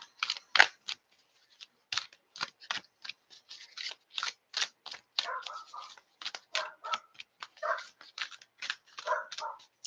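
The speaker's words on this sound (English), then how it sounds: "If you guys can hear that dog next door," A neighbor's dog next door barks repeatedly in short, sharp bursts at a moderate distance, with an uneven rhythm over several seconds.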